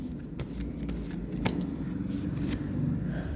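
Tarot cards are shuffled and drawn by hand in soft riffling and sliding bursts, close up over a steady low background hum.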